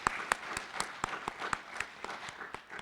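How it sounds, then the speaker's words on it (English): Scattered claps ring out from a small group at a morning session of a digital transformation academy, forming a light, fairly steady patter of individual hand claps at moderate distance. "let's give you a round of applause for that."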